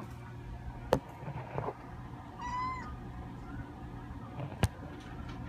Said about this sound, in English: Did I just open up my fridge and see a kitty cat in it?